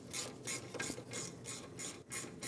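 Parking brake bolts being snugged down on a 2010-2015 BMW X1 xDrive, heard as a quick rhythmic ratchet clicking in short bursts, fairly faint and close, with no talking.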